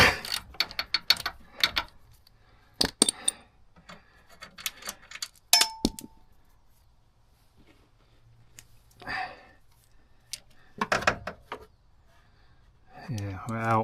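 A ratchet clicks in short bursts while tightening a bolt during rear tyre and brake work on a Goldwing motorcycle, with metallic clanks and pauses between the bursts.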